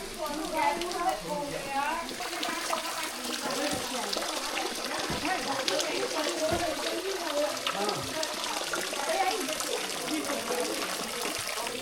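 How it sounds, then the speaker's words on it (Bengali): Water pours and trickles steadily from a living root waterfall in Cherrapunji, a close, continuous splashing rush with voices faintly mixed in. "এই ঝুড়িটা দিয়েই জলটা পড়ছে, সেই জন্য এটা হচ্ছে রুট ওয়াটারফল"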